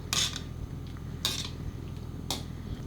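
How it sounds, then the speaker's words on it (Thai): Metal utensils clink and scrape against a pan three times as red sausages are stirred while the oil heats, sharp close taps over a low steady background hum with no talk. "เราก็คนไส้กรอกไปเรื่อย ๆ ให้โดนความร้อนทั่วถึงกันนะครับ"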